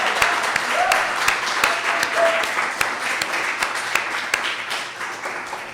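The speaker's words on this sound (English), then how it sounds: "could we just have a round of applause for Jennifer Harris and the other" Steady crowd applause at an evening poetry festival in Plymouth, the dense clapping of many hands sustained throughout at a moderate, even level with no talk over it.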